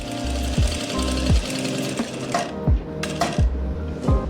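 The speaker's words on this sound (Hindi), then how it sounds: "अब आपने सिलाई लगाने स्टार्ट करनी है।" A sewing machine stitches fabric for a plazo bottom, its motor running in steady bursts with a rapid needle clatter and repeated thumps as it stops and starts, loud and close.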